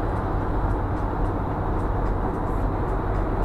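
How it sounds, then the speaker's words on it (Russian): Inside a suburban electric train in motion, a steady low rumble and rolling noise fills the carriage, close and continuous, with no talk. "Электричка."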